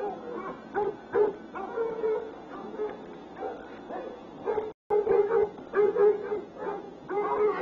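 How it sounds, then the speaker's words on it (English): Hunting dogs bark and yip on a trail in the film The Legend of Boggy Creek, with repeated close, excited barks and whimpers in an uneven rhythm. "The dogs are hot on the trail."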